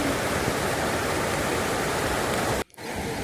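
Water pours forcefully over a dam like a waterfall, a dense, steady roar close by that fills the whole clip apart from one brief dropout near the end.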